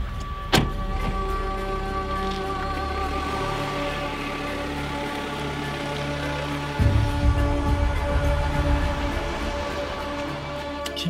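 A car drives along in a video game. A steady engine and road drone runs throughout, with a sharp click early on. A louder, rougher surge of engine noise comes in past the midpoint. No one speaks.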